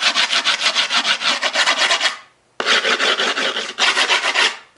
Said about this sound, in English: file the edges down.